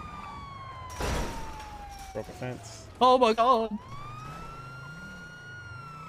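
A police car siren in the video game GTA roleplay wails steadily in a falling sweep. It continues under loud, excited voices and a sharp crash partway through.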